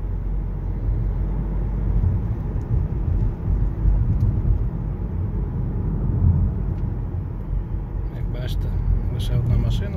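A car rolls along a nearly empty street in Italy under quarantine, a steady low road rumble and engine hum heard from inside throughout, with someone talking over it and a few faint ticks near the end.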